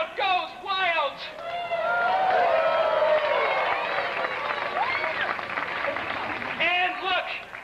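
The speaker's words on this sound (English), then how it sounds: "And double tosses, and the crowd goes wild." A festival crowd in 1992 Kleinburg applauds and cheers a juggler's double tosses, a dense wash of clapping and whoops with voices shouting over it, swelling in the middle and easing off.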